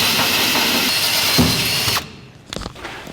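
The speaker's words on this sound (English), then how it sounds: "Drill a hole the size of our sheet metal screw." Power drill enlarging a hole for a sheet metal screw through the floor subframe of a 1949 Chevrolet gasser, a loud continuous whine of about two seconds stopping abruptly, followed by a few short knocks.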